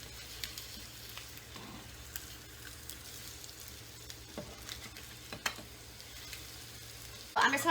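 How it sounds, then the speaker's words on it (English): An egg seasoned with garlic powder fries in a pan, crackling steadily with scattered sharp pops, then a louder clattering burst at the very end. "I'm just gonna let this cook. I'm trying to make all the yolk cook completely."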